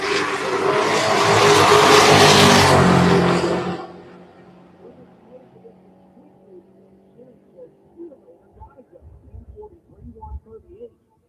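A Camaro and a Wisconsin-based Mustang launch side by side in a drag race, a loud roaring burst of engine and tire noise for about four seconds that quickly fades away, leaving faint scattered clicks.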